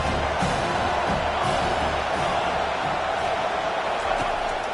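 A college football stadium crowd roars in a dense, steady wash of cheering throughout, loud and unbroken, in a football video game.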